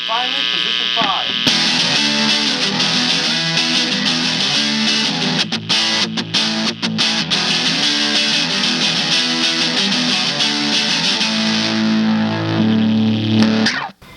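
A Squier Fat Strat HSS electric guitar in pickup position 5 plays through heavy distortion, with sustained chords and riffs that fill the passage loudly, ending in a brief cutoff.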